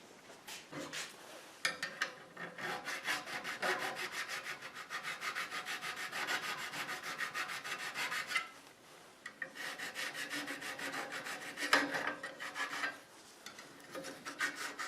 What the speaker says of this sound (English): let me try filing that off or sanding it off